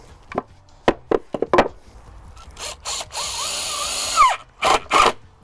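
A power drill drives self-drilling construction screws into a 2x8 wooden board for a concrete form, giving several short sharp whirs followed by longer, steadier runs of motor whine and close screw grinding, with no speech.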